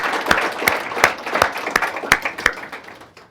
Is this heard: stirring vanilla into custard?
no